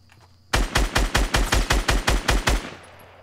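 Rapid automatic gunfire from the Fortnite video game, a burst of about ten evenly spaced loud shots lasting two seconds after a brief quiet, then a fading tail.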